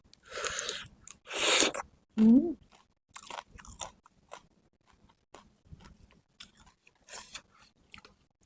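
Cooked shrimp heads crunched and chewed up close: a few loud bites followed by softer, irregular chewing and crackles, with brief vocal sounds between them.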